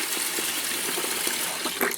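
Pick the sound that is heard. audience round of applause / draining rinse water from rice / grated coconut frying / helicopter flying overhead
draining rinse water from rice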